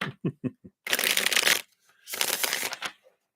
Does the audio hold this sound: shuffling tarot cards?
yes